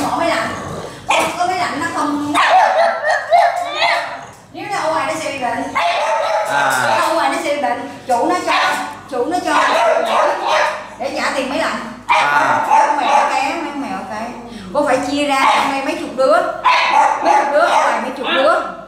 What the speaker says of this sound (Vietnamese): Con chó này là con chó của người ta gửi.